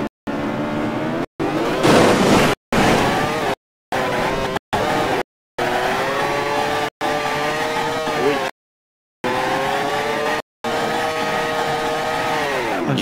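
A Mazda MX-5 exhaust in the BeamNG.drive video game revs and drones in a series of loud bursts, rising and falling in pitch and cut by short silences between them.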